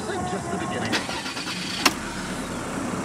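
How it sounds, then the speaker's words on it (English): A 2017 Mazda BT-50 GLX 4x4 pickup engine cranks and starts, with a brief sharp catch followed by a steady running rumble, heard close under continuous background noise and talk. "So just start the vehicle."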